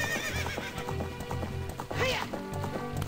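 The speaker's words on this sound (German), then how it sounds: "mein treues, braves Pferdchen Eponalein zu holen" Epona, the horse in the Zelda Ocarina of Time video game, gallops with rhythmic clip-clop hoofbeats and lets out a loud whinny partway through, over game music.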